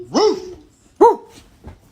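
A dog gives two short barks close by, the second sharper, followed by a faint low whimper or grunt in the quiet that follows.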